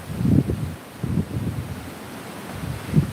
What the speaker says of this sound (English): it is getting windy out here